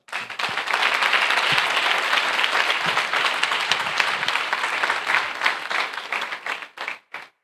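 A congregation in church claps for the word of the Lord, a full sustained burst of applause that holds steady, then thins into scattered final claps.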